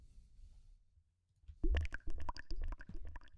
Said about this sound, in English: Exactly, it sounds like water, which is really cool.